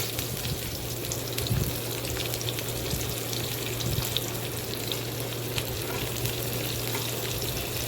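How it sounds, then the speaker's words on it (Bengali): Chopped onions fry lightly in a pan, giving a steady, soft sizzle with a continuous low hum beneath it and faint scattered crackles throughout. "এবার পেঁয়াজটাও হালকা হালকা ফ্রাই হবে।"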